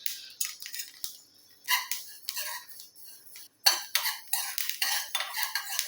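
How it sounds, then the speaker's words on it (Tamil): Dry hair-oil ingredients being roasted over a low flame in a steel pan, with sharp metallic scrapes and clinks of a spoon stirring in irregular bursts, close and fairly quiet, with short pauses between strokes. "சிம்மில் வச்சு வறுத்துக்கோங்க, தெரிக்கும்"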